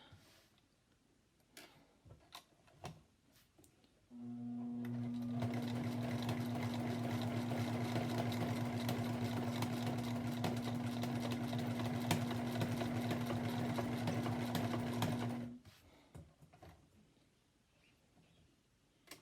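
A sewing machine stitching a quilt's appliqué border runs in one steady, close burst of about eleven seconds, with a humming motor and fast needle rattle. Light handling clicks come before and after.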